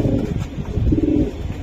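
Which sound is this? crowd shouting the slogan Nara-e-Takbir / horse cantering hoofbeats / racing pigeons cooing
racing pigeons cooing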